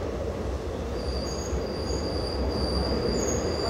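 A DEMU passenger train pulls into Shankar station, wheels squealing in thin high tones over a steady low rumble of the rolling train, heard from on board.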